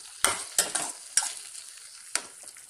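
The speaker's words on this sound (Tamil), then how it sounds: "நல்லா ஒரு 2 நிமிஷம் போல் வதக்கிக்கலாம்." Betel leaves being sautéed in a pan for rasam, with a few sharp stirring scrapes and clinks over a soft, steady sizzle, close and fairly quiet.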